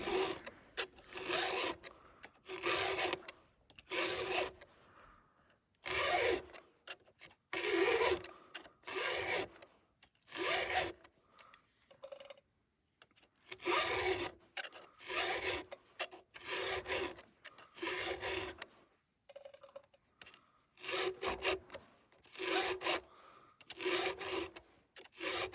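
Hand filing a chainsaw chain with a round file in a marked filing guide: close, crisp metallic rasping strokes come in steady rhythmic bursts, with short pauses between runs of strokes.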